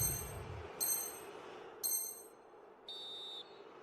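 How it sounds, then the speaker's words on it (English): A referee's whistle in the eFootball video game signals the end of the first half: two short, bright blasts followed by a longer steady one, fairly faint over a low background hum. "And on that whistle, the first half comes to an end."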